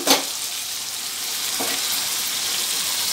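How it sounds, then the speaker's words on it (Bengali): Chicken pieces hiss and crackle as they are stir-fried in a pan, a loud, steady close-up sizzle opening with a sharp stirring scrape and another brief scrape partway through, no speech. "চিকেনগুলো দিয়ে আমি সুন্দর করে কষাবো"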